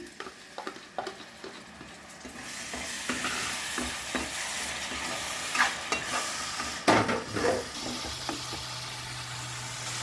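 Tomato paste goes into sizzling onion masala for a jackfruit and drumstick curry, giving a moderate frying hiss with irregular spoon knocks and scrapes against the pan and a low steady hum underneath.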